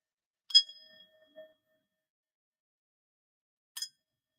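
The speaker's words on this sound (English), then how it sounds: "So I'm going to ring my bell" A small bell is struck during a grief ritual, giving two clear, bright rings a few seconds apart, with the first leaving a brief fading tone and a soft clink, all in near silence.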